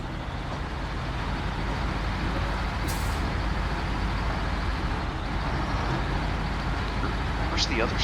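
A Scout truck drives in the SnowRunner video game, its engine a loud, steady, low drone that runs throughout. A brief air-brake hiss sounds partway through.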